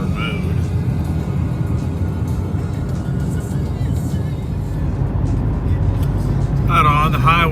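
A 2020 Ford Mustang GT500 cruising on the highway in normal mode at about 65 in seventh gear gives a low, steady engine and road drone, with someone talking over it.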